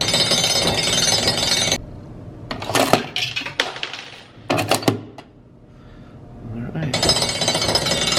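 A pressed-penny souvenir machine at a roadside attraction is cranked. Loud mechanical grinding is heard with clanking and clattering bursts in the middle, then the steady grinding returns, close up.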